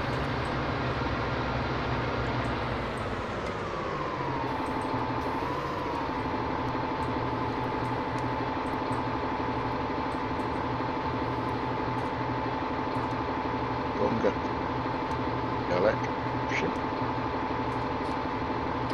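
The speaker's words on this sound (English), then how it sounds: "Great when you can hear the tractors properly though" Steady tractor engines from Farming Simulator 19 drone and rumble continuously, with a low pitch that dips and rises slightly, under a steady background and a few faint clicks.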